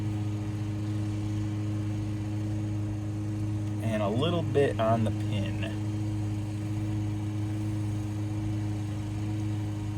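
A steady low engine drone runs throughout, like a lawnmower in the background, while a person speaks briefly midway.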